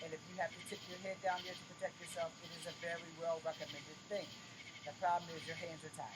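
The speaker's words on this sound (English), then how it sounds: "you can't because of the noise in the background, the frogs" Outdoor frogs and insects call constantly in the background, a busy chirping layer underneath someone talking throughout.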